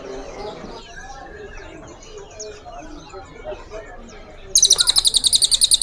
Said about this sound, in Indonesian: yang nyari burung cililin pur total gacor kayak gini